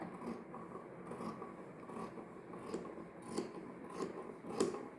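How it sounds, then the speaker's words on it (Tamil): Scissors snip through silk fabric being cut for a child's skirt and blouse, giving a steady series of soft, close crisp cuts with a faint rasp at low level, no voice. "இதை நான் கட்டிங் பண்ணி காமிக்கிறேன் பாருங்கள்"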